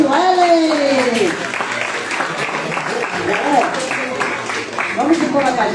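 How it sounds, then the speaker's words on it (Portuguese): A congregation at a live-recorded church event claps for a teacher, the applause running under loud voices that speak and call out over it. "Estamos de palmas para a professora Sueli."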